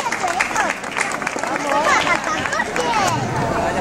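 An audience at an athletics club awards ceremony applauds, steady clapping and crowd noise filling the space with voices talking and calling over it throughout.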